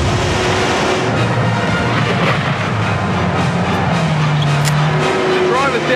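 A battle tank driven along, with a heavy continuous engine drone and rumble, a low tone sliding in pitch as it moves and a steady loud mechanical noise throughout; people talk over it.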